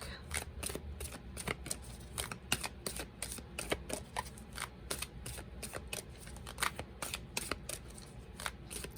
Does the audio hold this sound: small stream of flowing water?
no